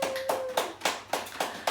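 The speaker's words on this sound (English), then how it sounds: "please stand in a big round of applause for Toula as she walks down the aisle" Wedding guests clap for the bride as she walks down the aisle, a small, close group with distinct rhythmic claps roughly every quarter second, each one sharp and separate.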